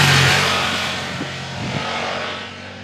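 A big-bore adventure motorcycle, a Triumph, engine running loud and close, with a steady broadband roar that eases slightly and holds on, with no talking.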